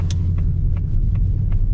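A Ford Mustang GT V8, 2024/2025 European model, with a track exhaust: a steady, loud low engine rumble and exhaust drone heard from inside the car while driving at night.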